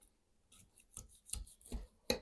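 Knife slicing through a baked chicken gizzard and vegetable casserole pie, a few close crisp cuts and scrapes at an uneven pace, quiet overall with sharper strokes near the end.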